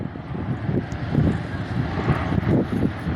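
A Virgin Australia Embraer E2 jet airliner flies past at a windy airfield, a steady low engine roar with gusting wind buffeting the microphone throughout.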